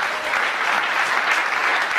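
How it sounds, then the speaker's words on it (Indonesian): A congregation at a church sermon applauds in a steady, dense wash of clapping that stays loud and even from start to end. "Tepuk tangan dong saudara."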